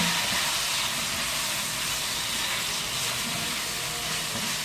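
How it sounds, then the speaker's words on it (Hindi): Capsicum fries with chicken in a hot pan, a steady loud broadband sizzle and hiss that holds evenly throughout, close up with no speech. "कैप्सिकम को भी हम 1 मिनट तक फ्राई कर लेते हैं"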